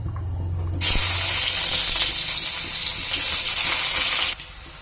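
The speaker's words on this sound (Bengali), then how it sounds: "ওখানে আমি পেঁয়াজটা ছেড়ে দেবো কড়াইতে" Chopped onion hits hot oil in a kadai and bursts into a loud, steady sizzle that hisses continuously for several seconds before cutting off abruptly.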